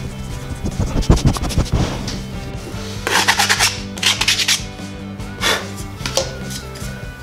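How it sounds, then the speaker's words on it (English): Rough scraping strokes of sandpaper on the edges of fence-board wood come in uneven bursts, close up, some quick back-and-forth rubs and a few longer passes. "Once you've finished sanding all of your edges"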